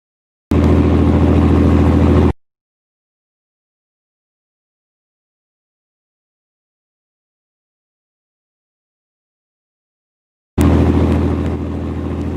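A fishing boat engine runs at full throttle on the way back to port, a loud steady drone in two bursts separated by a long stretch of silence.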